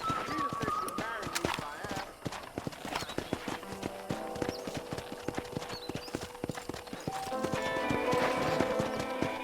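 Horse hooves clip-clop steadily at a brisk pace while riding across a western ranch in the video game Red Dead Redemption, with a whinny and voices talking over the rhythmic hoofbeats.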